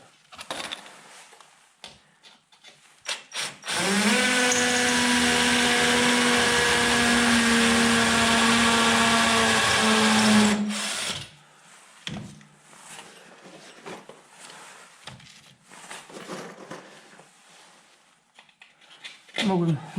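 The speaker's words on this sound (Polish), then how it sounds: "No i tak, tak wiercę dziurki." A power drill whirs loudly for several seconds, steady and close, drilling holes in a Knauf suspended ceiling frame, then stops; shuffling, clicks and handling noises follow.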